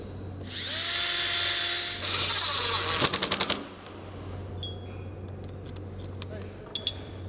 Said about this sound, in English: So I'm just going to pre-drill those holes